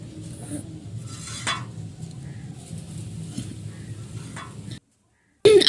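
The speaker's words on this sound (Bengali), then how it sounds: "এবার দিয়ে দিলাম জল। এবার আমরা এই সম্পূর্ণ মশলাটাকে ভালো করে সিদ্ধ হতে দেব।" Spiced masala for a mrigal fish curry simmering in a pan after water is poured in, giving a steady low hiss and bubble for several seconds, then a sudden gap and a loud clatter at the end.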